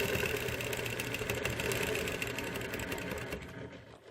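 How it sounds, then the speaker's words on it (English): A sewing machine stitches a quilt block with a bird bracket chain ruler and a hopping foot, a steady close buzzing whir that fades slightly near the end. "and I'm going to start sewing"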